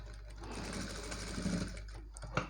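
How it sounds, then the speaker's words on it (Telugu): Sewing machine stitching the neckline of a blouse, a steady continuous motor whir running the whole time with a slight rise near the end, close and alone without talk. "ఇక్కడ మిడిల్లో పెట్టేసి నేనైతే ఒక స్టిచ్ అయితే వేస్తున్నానండి దీనికి."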